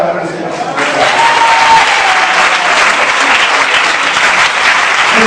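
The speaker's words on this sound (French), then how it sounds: "Est-ce qu'on peut acclamer le Seigneur?" A church congregation at a night vigil bursts into loud, sustained applause and acclamation for the Lord, a dense wash of clapping and crowd cheering that swells and holds steady throughout.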